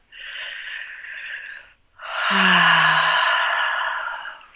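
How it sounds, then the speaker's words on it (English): Two long, deep breaths close up, a softer inhale followed after a short pause by a louder, fuller breath with a faint low hum under it, calm and unhurried. "Nice deep breath."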